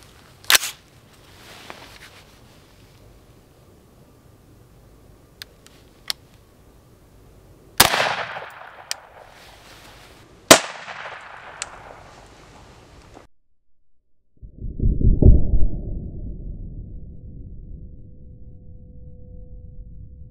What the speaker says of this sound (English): I'm shooting 77 grain AAC hollow points out of this.